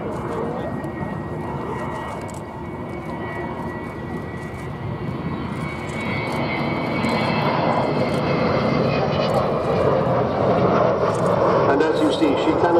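Avro Vulcan XH558 jet bomber flies past at the Duxford airshow, a steady, fairly quiet jet roar building gradually louder in the distance while a commentator talks over it.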